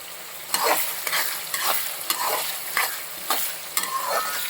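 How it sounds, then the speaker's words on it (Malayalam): Pork curry being stirred in a hot pan, the spoon scraping in repeated strokes about every half second over a steady, close sizzle of frying, with no voices. "നന്നായിട്ട് ഇളക്കി കൊടുക്കുക."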